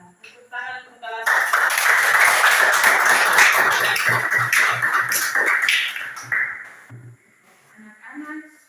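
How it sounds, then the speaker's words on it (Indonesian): Classroom of children clapping together in a burst of applause for the class after a plant-parts lesson, loud and dense for several seconds, with children's voices around it before and after. "Tepuk tangan untuk kelas."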